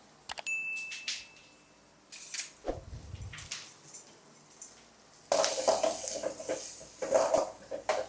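Onions and curry leaves sautéing in a home kitchen pan, with clinks of a spoon against the metal, brief scraping strokes and soft frying hiss between quieter pauses.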